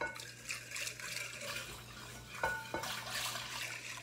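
Cold milk pours into a bowl of eggless, butterless honey-heart cake batter, a soft, close liquid trickle with a couple of faint clinks and no talking.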